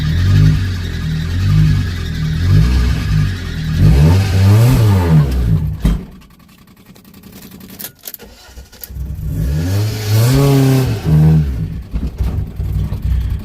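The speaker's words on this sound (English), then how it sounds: "Might not be like a crazy burnout" A car with a worn-out clutch revs hard during a burnout attempt: loud, close engine roars rise and fall in repeated surges, with a quieter idling lull in between.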